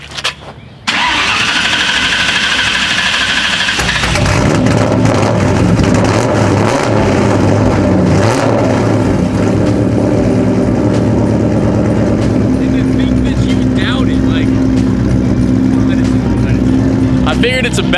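A 1999-2004 Ford Mustang engine cranks for a couple of seconds, fires up and settles into a loud, steady idle with slight revving, close up, while people talk over it.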